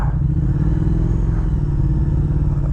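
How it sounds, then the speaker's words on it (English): A 2016 Triumph Thruxton R with British Customs exhaust pipes idles close by, a deep, steady, loud rumble that holds even and unbroken throughout with no one talking. "It's got some British Customs pipes on it. Sounds pretty sick."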